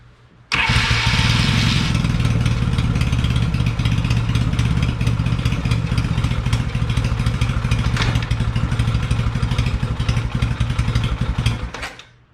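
A motorcycle engine starts and runs steadily in gear while the bike sits on its center stand, a loud, close, even drone with mechanical clatter that holds for about eleven seconds before cutting off.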